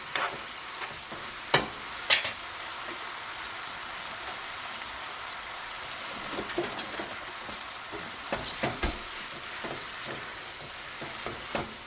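Chicken sausage and butternut squash pasta being stirred in a hot pan, a steady close sizzle broken by a few sharp scrapes and clinks of the utensil.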